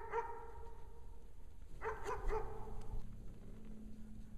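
An all-black German Shepherd barks and whines outdoors, a few fairly distant, moderate yelps in two short bursts, the second busier than the first, before fading into quieter background.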